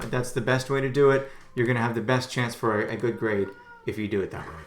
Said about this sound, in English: That's my cat who wants out of the room.